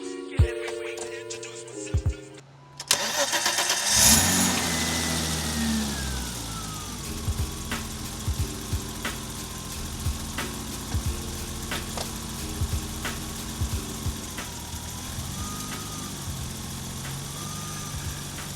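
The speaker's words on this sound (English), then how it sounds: "Let's see how this M20 sounds." BMW E30 with an M20 engine cranks over, fires up and settles into a steady idle with a few light blips, close and fairly loud, with no talk.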